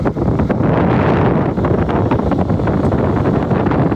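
Wind buffets a microphone outdoors, a loud, constant low rumble with gusty fluctuations filling the whole stretch.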